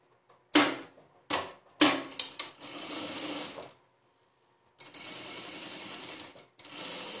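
A sewing machine stitching a fabric pencil case, starting with a few short bursts and then running in two longer steady whirring stretches separated by a pause, close and clear with no talking.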